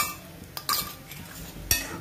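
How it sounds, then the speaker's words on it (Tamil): A spoon stirs chana masala in a metal pot, giving a few scattered clinks and scrapes against the sides, close and fairly quiet, with no talking. "ஊற்றி நல்லா மிக்ஸ் பண்ணிடுங்க."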